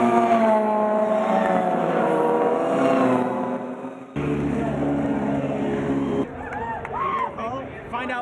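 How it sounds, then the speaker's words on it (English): Indy race cars at the 1998 Toronto Molson Indy fill the air with a loud engine roar whose pitch shifts abruptly between cuts, heard up close amid crowd and track noise. "Behind me, Alex Zanardi has just pulled in."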